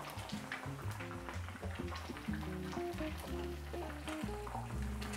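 Crab cakes fry in a pan as a slurry is poured onto the hot surface around them, giving a steady, close, loud sizzle with bubbling crackle throughout and no talking.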